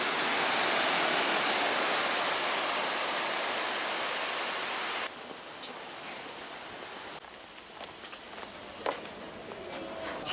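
North Sea waves at Whitby make a loud, broad rushing wash for several seconds, then drop to a quieter, distant surf with faint outdoor sounds and occasional soft knocks.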